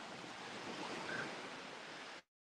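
Gentle waves wash steadily against the sand of a beach in a continuous soft rushing hiss with slight wind, fading out abruptly near the end.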